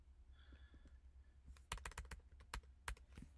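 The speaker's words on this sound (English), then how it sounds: "we're just deleting release and typing in debug" Typing on a computer keyboard while setting up a Godot build for iOS, with a quick burst of sharp, close key clicks in the second half after a quieter start.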